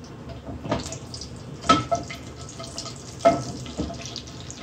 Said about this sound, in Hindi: साथ ही ये टीस्पून जीरा, साबित जीरा डाल देंगे